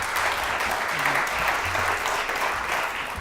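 An audience applauds to welcome Leon Willems, Executive Director of Free Press Unlimited, before his speech; dense, steady clapping fills the room at a fairly loud, even level throughout.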